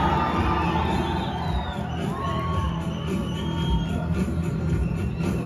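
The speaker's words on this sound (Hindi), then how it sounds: "हॉल में हो रही है खचाखच भीड़" A packed cinema hall crowd, a loud dense roar of many voices with shouts and whoops, continuous over the film's soundtrack.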